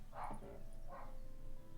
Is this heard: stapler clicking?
no